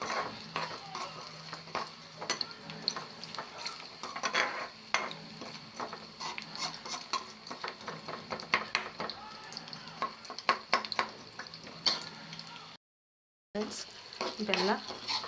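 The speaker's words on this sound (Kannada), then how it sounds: "ಆ ಥರ ನೀಟಾಗಿ ನಾವು ಫ್ರೈ ಮಾಡ್ಕೊಳ್ಳೋಣ." Jaggery melting in hot oil tempering for a pickle, a continuous sizzle with frequent rhythmic scraping and clinking of a spoon against the pan, close, with a brief silent gap near the end.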